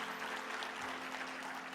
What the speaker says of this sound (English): you probably give him a round of applause